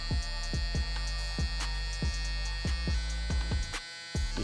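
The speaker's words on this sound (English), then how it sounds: "using my Gamma Evo X trimmer" Gamma Evo X hair trimmer buzzing steadily at close range during a fade haircut, a constant electric hum with a rhythmic throbbing pulse roughly every half second, and no talking.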